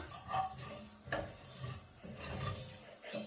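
Chili flakes fry in oil with fennel seeds for a Sri Lankan sambal, a close scraping stir over a soft sizzle in uneven strokes, with no talking.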